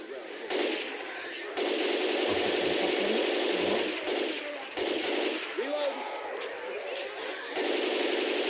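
Rapid automatic gunfire bursts in the video game Left 4 Dead 2, loud and dense, cutting in and out in long sustained volleys with brief gaps and a few shorter rattles.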